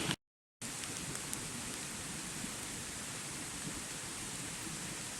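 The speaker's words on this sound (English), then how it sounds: "almost like a tropical rainstorm" Heavy rain pours during a thunderstorm, a dense, unbroken roar of water that stays steady after a brief cut-out near the start.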